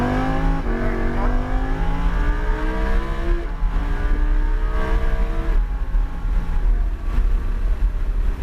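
A Lamborghini Huracan accelerates hard on a track, its engine note climbing through repeated rising sweeps with gear changes, loud and close throughout.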